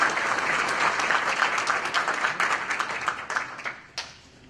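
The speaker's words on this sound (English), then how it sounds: "Let's give a big round of applause for our Consul General" An audience at a Turkish Republic Day celebration in Nassau County, New York, applauds the Turkish Consul General, brisk dense clapping that gradually thins into scattered claps and fades out.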